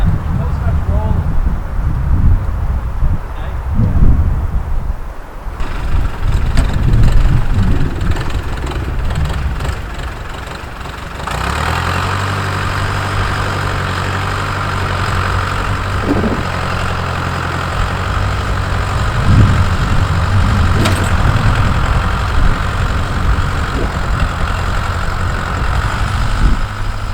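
A vehicle engine idles steadily with a low, even rumble that settles in after a rougher start, while people talk over it for much of the time.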